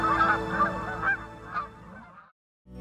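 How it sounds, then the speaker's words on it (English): Canada geese honk repeatedly in a loud, close chorus of overlapping calls, then fall silent. "I'll take the honk of a Canada goose any day."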